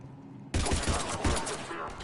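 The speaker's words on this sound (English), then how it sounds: "The cannon fire is clearing the way." Cerberus cannon fire in a video game firefight: a sudden loud onset of dense, continuous gunfire-like bursts with heavy low thumps, sustained for about a second and a half with no talking.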